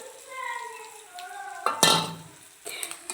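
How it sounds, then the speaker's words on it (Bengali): Maggi noodles with egg being stirred in a pan, a spatula scraping and clinking against the metal with a faint sizzle, close and moderately loud, with a sharp scrape burst midway and another near the end. "5 মিনিট এটাকে নেড়ে নেব"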